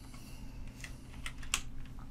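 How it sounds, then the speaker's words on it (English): Quiet typing on a computer keyboard, a few soft scattered keystrokes with one sharper click near the end, alone over a low electrical hum. "I'm just typing in 100 with the percentage sign"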